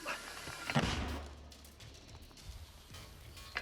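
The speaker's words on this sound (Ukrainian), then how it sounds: "Постріл." A single heavy mortar shot fired by Ukrainian forces at night booms near the start, followed by a low rumbling tail and faint outdoor noise.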